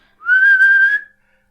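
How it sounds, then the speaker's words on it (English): Someone whistles a single sustained note, rising slightly at the start and holding for about a second before fading. "He whistles in a way that I apparently can't."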